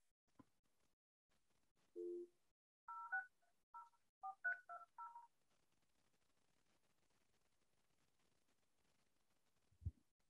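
Touch-tone DTMF dialing from a phone placing an outgoing call: a short low tone, then a quick run of about eight clean keypad beeps, followed by quiet and a faint click at the end.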